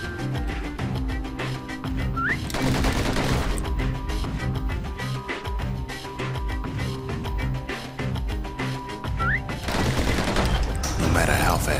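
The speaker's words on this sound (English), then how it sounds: "they want you to shoot absurdly fast with these pistols in order to get first place" Rapid pistol fire from the video game Bastion, dense bursts of shots packed together over loud game music and effects, with a voice speaking over it.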